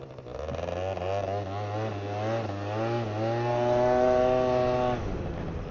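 A Yamaha BWS two-stroke scooter engine labouring up a mountain road, a loud buzzing drone that rises in pitch as it pulls, holds high, then drops away near the end, with no speech.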